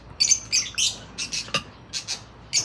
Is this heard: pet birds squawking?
yes